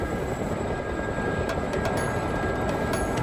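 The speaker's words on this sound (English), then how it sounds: "Military choppers." Military helicopters fly in a combat flight simulator, their steady broadband rotor and engine roar holding loud and constant, with no voices over it.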